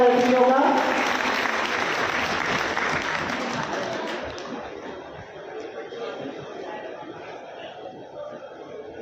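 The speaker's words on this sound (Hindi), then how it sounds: "कृपया तालियों से स्वागत जरूर करें अतिथियों का" A crowd at a tribal day gathering in Harda claps to welcome guests, a dense burst of applause that slowly fades out, with chatter and some chuckling mixed in.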